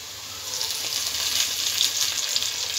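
Onions sauté in a pan for vegetable brinji, making a close, steady frying hiss that stays even throughout with no voices.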